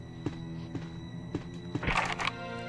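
Someone in Resident Evil rattles a locked door handle in the mansion, a few soft clunks followed by a louder rattling jiggle, quiet and close with no talk.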